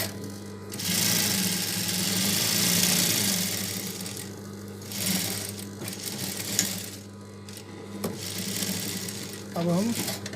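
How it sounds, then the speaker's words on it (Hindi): Two panels of a small child's suit are sewn together on a sewing machine, with a loud, close mechanical whir running in several bursts over a steady motor hum while someone speaks at intervals. "ये 2 पल्ला एक साथ रख के इसको सिलाई कर लेते हैं"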